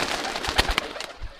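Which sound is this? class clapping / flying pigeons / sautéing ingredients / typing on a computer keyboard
flying pigeons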